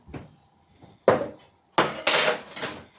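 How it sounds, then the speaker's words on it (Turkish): A bar spoon clinks and rattles against ice in a glass while stirring a mojito cocktail, with a few separate close clattering strokes, the last ones longer and louder, no voices. "Bir bar kaşığı yardımıyla kokteylimi karıştırıyorum"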